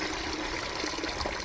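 Dirty water draining off paddy seeds being washed, a soft continuous trickling and pouring of liquid, faint and steady with no talk.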